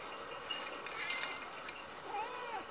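A kitten at a humane society shelter meows in thin, faint high-pitched mews, a couple of brief cries over a noisy room murmur.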